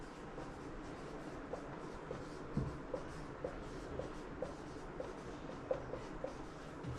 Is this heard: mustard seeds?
no